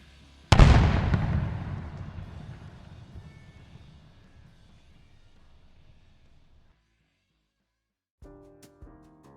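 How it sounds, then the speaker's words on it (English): A massive building explosion erupts as a sharp, loud blast that rolls into a long rumbling decay lasting several seconds. It fades to near silence before a brief burst of scattered debris and crackle closes the sequence. "we'll walk out of the building as the building explodes behind us. Explosions going out."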